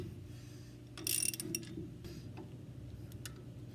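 Fasteners being tightened on the split bushing of a Milnor industrial washer extractor: a few faint metallic ratchet clicks and ticks, with one brighter burst of clicking, quiet and close.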